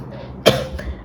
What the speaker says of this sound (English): I still cough